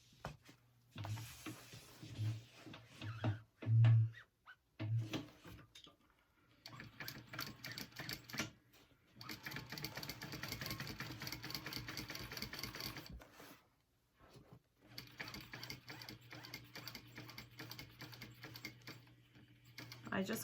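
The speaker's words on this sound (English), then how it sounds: "now we're just gonna sew around that. We're gonna top stitch and then sew around the edges." A sewing machine top stitching around the edges of a Brooklyn Traveler bag runs in long steady bursts with short pauses between them, close and clear, with a voice talking over parts of it.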